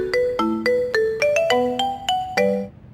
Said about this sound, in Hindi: अम्मी फोन कर रही है लेकिन हम उठा रहे तो कट रहा है